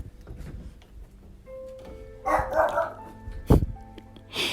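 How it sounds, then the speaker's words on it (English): A few dog barks sound at a distance amid faint background clatter, with one sharper, louder bark near the end. "some dogs barking"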